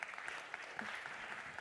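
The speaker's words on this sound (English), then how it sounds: "maybe we can have an applause for all the speakers up to now" Brief, faint applause from a conference audience for a session's speakers, a soft continuous patter of clapping hands heard at a distance.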